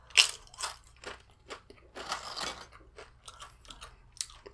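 Tortilla chips crunch loudly and close up, with irregular bites followed by steady chewing in a quiet setting.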